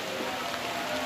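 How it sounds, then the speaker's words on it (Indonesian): Steady hiss of rain falling on surfaces, even and continuous, with no voices. "hujan dah turun guys."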